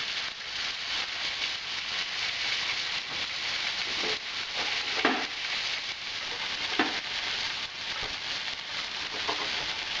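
Steak and onions sear in butter in a pot, a steady loud sizzle running throughout with occasional louder pops and spatters.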